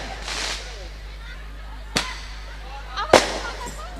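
Firecrackers pop as sharp, isolated bangs, about three spread over a few seconds at moderate distance, with a steady low hum and faint background noise between the bursts.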